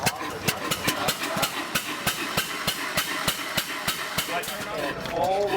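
An 1886 Benz Patent Motorwagen single-cylinder engine runs at a museum with an exposed, moving mechanism. It gives a slow, even chugging beat of regular knocks at close range, and voices murmur faintly in the background.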